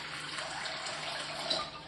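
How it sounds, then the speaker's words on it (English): Tap water runs steadily into a bowl, a soft continuous splashing hiss that stays even throughout. "the water can be just as simple as filling a bowl from your tap"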